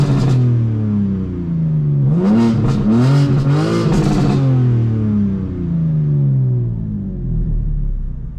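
A BMW M4 G82 fitted with catless downpipes and air intakes revs hard in Sports Plus mode. The engine rises and falls through several loud, close throttle blips with a rumbling burble, and there is no talk.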